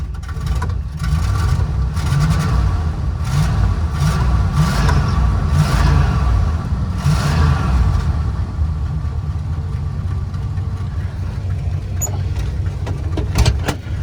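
A Travco L'Esprit motorhome's 440 V-8 big block runs with a loud, steady low rumble, swelling in a few mild revs early on before settling into a smoother idle, close and alone.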